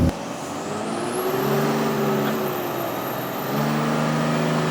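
A Cummins-swapped 2008 Ford F-350 dually truck accelerates hard through a gearshift. A loud, steady diesel drone rises in pitch, dips briefly at the shift, then climbs again, close and continuous with no talking.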